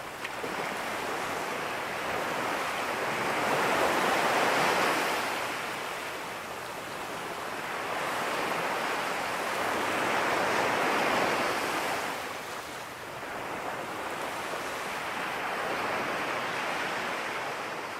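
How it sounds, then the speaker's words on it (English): Large waves driven by strong wind roll in on Lake Garda, a loud, continuous roar of surf that swells and fades in slow surges, with wind rushing underneath. "a very strong wind is blowing, and quite large waves are forming on Lake Garda"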